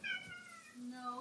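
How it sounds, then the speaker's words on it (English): Faint meowing from a house cat indoors, with two brief wavering calls in one short burst and no talking. "that was my cat meowing"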